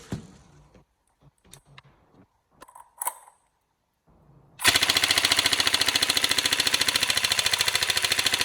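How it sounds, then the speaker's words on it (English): Tokyo Marui M4 SOPMOD NGRS airsoft gun with an Action Army motor firing a rapid, loud full-auto burst of evenly spaced cycles. Quieter handling clicks come first, then a pause. "Got a really good rate of fire there with the Action Army motor."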